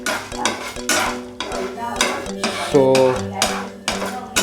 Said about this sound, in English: I am sauteing it, tempering it, let it come to a golden brown consistency.